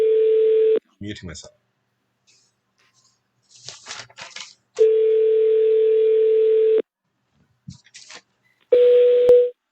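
A steady telephone call tone sounds in three long stretches, loud and close, waiting for a call to connect; brief bursts of talk and clicks fall between the tone segments.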